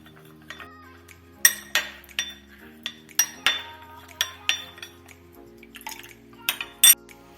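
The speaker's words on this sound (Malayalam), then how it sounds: "ഈ കോൺഫ്ലവറിലേക്ക് ഒരു 1/2 ഗ്ലാസ് പാലൊഴിച്ച് നല്ലവണ്ണം മിക്സ് ചെയ്തെടുക്കാം." Cornflour being mixed with half a glass of milk for a mango pudding, a spoon clinking against the bowl in irregular taps and scrapes, close and fairly clear, with no talk.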